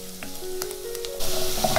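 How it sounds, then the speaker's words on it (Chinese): Diced squid sizzles and crackles as it is stir-fried in a wok, with occasional scrapes of stirring, growing louder and more intense toward the end. "切好了先炒香。"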